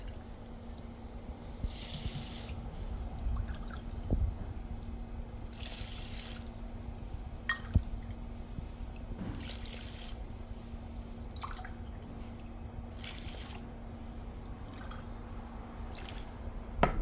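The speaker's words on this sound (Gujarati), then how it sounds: "350 ગ્રામ મગની દાળ છે, એમાં આપણે 5 કપ પાણી નાખશું" Water is poured onto 350 grams of moong dal, arriving as several separate splashing bursts, one per cup, spaced a few seconds apart over a quiet background.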